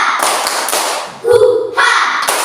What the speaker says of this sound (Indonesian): Lebih dahulu sama-sama tepuk semangat.